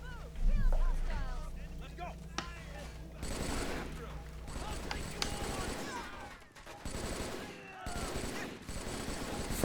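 Bursts of rifle and automatic gunfire crackle through a Halo video game battle between UNSC troops and insurrectionists, dense overlapping shots with vehicle rumble and voices talking over the fighting.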